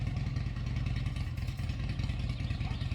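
A neighbor's vehicle engine runs continuously nearby early in the morning, a loud, rough, steady low rumble with rattling clatter and slight surges in throttle, heard alone.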